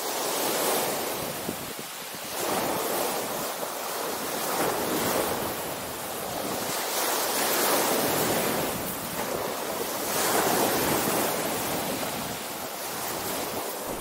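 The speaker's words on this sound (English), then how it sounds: "Although the wind seems to be dying down a bit" Strong wind buffets the microphone on the North Kent coast at Whitstable, with waves washing in steadily and surging in repeated slow swells. There is no talk.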